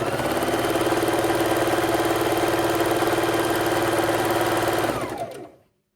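A sewing machine runs steadily while chain stitching quilt scraps, a close, even mechanical whir with fast needle rhythm that holds for about five seconds before winding down and stopping.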